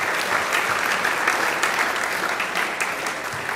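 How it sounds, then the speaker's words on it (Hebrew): An audience at a lecture by a rabbi bursts into steady, dense clapping that holds at an even level throughout, close and full. "מחיאות כפיים למתנאל הצדיק"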